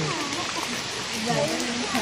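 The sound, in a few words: rain falling at beach resort pool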